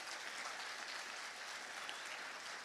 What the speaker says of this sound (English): how about a round of applause for all our royalty here?